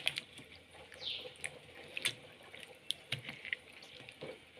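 Eggplant seeds are washed by hand in water, giving faint, quiet sloshing with scattered small drips and splashes at an irregular rhythm.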